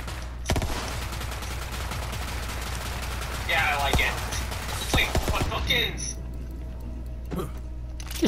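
Semi-automatic weapon fire in a video game: loud, rapid shots over a continuous background bed, followed by mechanical clicks and clatter of a reload, with a few isolated shots at the end.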